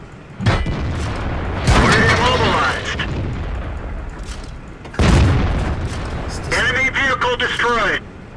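Artillery fire in World of Tanks: heavy booming shots with rumbling tails, one early and another around the middle, under continuous gameplay noise with someone talking over much of it.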